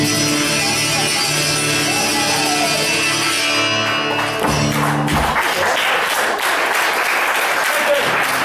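Applause breaks out at a live band show as a cover song ends, clapping rising over the last sustained musical notes and then continuing loud and dense on its own.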